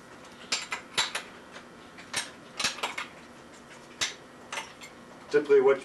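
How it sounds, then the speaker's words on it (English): Metal clinks and ticks from a spanner wrench loosening the frame couplings on a P-38 Voyager, a series of brief, sharp metallic taps spaced irregularly, close up and fairly quiet, with a louder rattling clunk at the end. "Typically what you want to do is first loosen all three couplings and then unscrew them."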